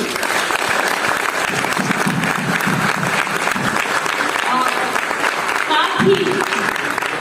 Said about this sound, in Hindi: मैं आप सभी छत्तीसगढ़ और पूरे हिंदुस्तान से आए वाले लोग सभी लोगों की ओर से जोरदार ताली चाहती हूँ